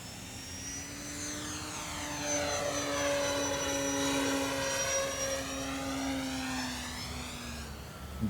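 Electric E-flite Timber 1.5m RC airplane flying overhead, its propeller whine steadily rising and falling in pitch as it passes, fairly faint and alone with no talk.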